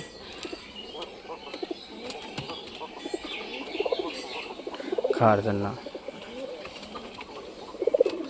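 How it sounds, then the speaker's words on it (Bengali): Pigeons at a pigeon loft coo and flutter with soft low calls and occasional wing flaps, fairly faint and scattered, while a person talks over them. "কবুতর লফটে দেখো সব কবুতরের বাচ্চা আর বড় কবুতর সব নিচে চলে আসছে"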